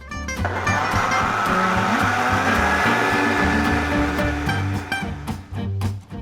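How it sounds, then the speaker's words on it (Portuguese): A blender roars loud and close for several seconds, its motor churning steadily as oil is poured in to thicken a mayonnaise-like sauce, before tapering off with a few knocks. "agora a gente vai ligar o liquidificador e enquanto tá batendo a gente vai derramando o óleo"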